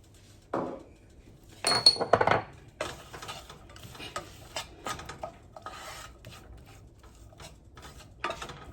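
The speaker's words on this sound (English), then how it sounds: "Just chop your little onion." Knife chopping a small yellow onion on a board, heard as scattered close taps and scraping bursts with gaps between strokes, with no talk.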